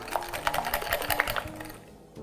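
Flour and corn starch are stirred briskly into an egg cream mixture in a bowl, making rapid, rhythmic clinking and scraping close by with no talking.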